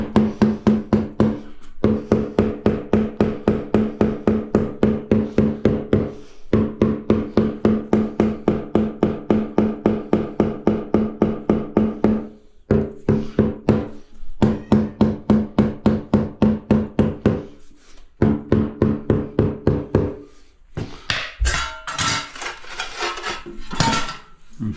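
A rubber mallet taps steadily on tile being laid on a shower base, dozens of quick, even knocks in long runs with brief pauses, close and clear, no talking.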